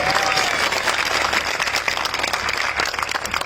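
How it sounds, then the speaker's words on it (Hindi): Clapping from a large rally crowd at an election gathering in Rampur, a dense, steady wash of many hands sustained throughout, loud and close, with no clear speech over it. "ताली बजा लो जो लोग समझ गए"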